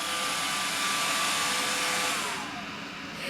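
An iRobot Roomba robot vacuum runs close by with a steady broadband whir and a faint high whine that drops slightly in pitch near the end, with no voices.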